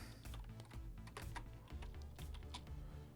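Soft, faint computer keyboard clicks tap out in an uneven run over a steady low hum while text is entered for a school programming lesson on string data; no one speaks.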